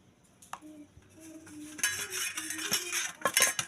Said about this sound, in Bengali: দেখো আমি এই ডিমগুলোতে হালকা একটু হলুদ মাখিয়ে নেব।